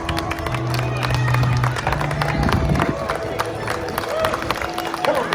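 A street crowd in Covent Garden, London, claps and cheers for a live performer, scattered applause and shouts rising over busy crowd chatter and nearby voices.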